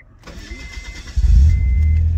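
A Mazda 323 Familia with an ECU fault is cranked. A high whine and churning starter come first, then the engine catches with a low, loud rumble and keeps running roughly, recorded close by.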